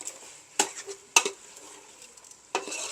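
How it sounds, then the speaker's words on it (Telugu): Chicken is stirred with chicken masala in a pan in a Goa kitchen, a spoon scraping and clanking in three sharp strokes over a soft sizzle, close up. "దీన్ని బాగా కలుపుకోవాలన్నమాట"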